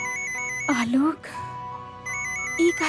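A phone ringtone plays as a steady repeating electronic tone at the start and again near the end, broken by a loud voice speaking over it.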